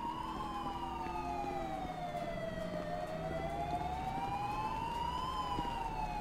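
An emergency vehicle siren wails steadily throughout, rising and falling in a continuous sweep, from a SAMUR BMW ambulance in Grand Theft Auto V on PC with a rescue mod, heard over low engine rumble.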